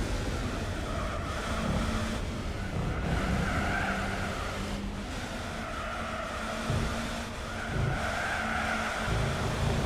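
A race car in Gran Turismo 4 runs at Le Mans on the Mulsanne straight, a steady loud engine drone with tire noise and shifting tones, no talking.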